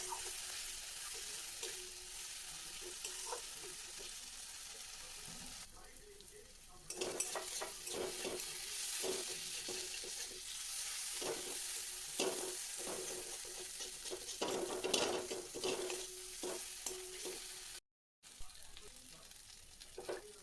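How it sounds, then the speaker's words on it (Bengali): Masala being stir-fried with a little water in a pan for a home-style Bengali egg dish: a steady sizzle with repeated scraping strokes of a spatula, the stirring growing busier partway through. "সামান্য জল দিয়ে আমি মশলাটাকে ভালোভাবে কষিয়ে নিচ্ছি"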